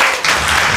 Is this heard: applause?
yes